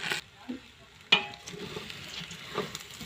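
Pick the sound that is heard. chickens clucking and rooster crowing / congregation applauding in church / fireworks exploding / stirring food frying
stirring food frying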